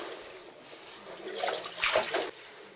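Water gushes out of a 5-inch cylindrical hole in a muddy underground chamber, a steady close rushing flow that swells briefly louder before easing off.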